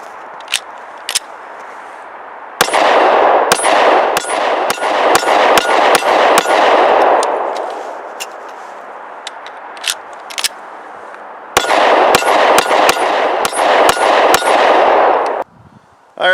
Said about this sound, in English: run a couple mags of my chosen carry ammo through this gun to make sure it functions fine